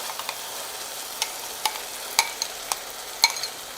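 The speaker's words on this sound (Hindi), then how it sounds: "दही रो मसाला डाल के अपन जल्दी जल्दी चलाना जरूरी है।" Yogurt masala fries with onions in a pan for a Rajasthani methi gatte sabzi, a steady sizzle broken by quick sharp clicks and scrapes of a spoon being stirred briskly.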